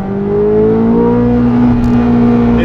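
Chevrolet Corvette C8 Z06 V8 accelerating in its sportiest engine mode, a loud, close, steadily rising engine note that climbs through the revs without a break, no voices.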